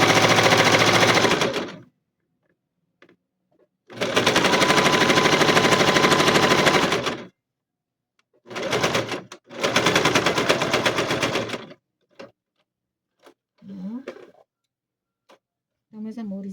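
Sewing machine stitching a child's backpack, with rapid, loud mechanical chattering in bursts of a couple of seconds each, separated by pauses and a few faint clicks, with brief speech in between.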